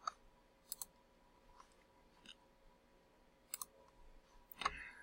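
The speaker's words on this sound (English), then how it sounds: "So I want to click on that." Scattered mouse clicks, some single and some in quick pairs, ring out sharp and close in a quiet setting while a software page is worked through.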